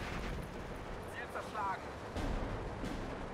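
Artillery shells landing in Steel Division 2, a World War II strategy game: dull distant booms rumble under a steady battle din, with a couple of louder thuds near the end.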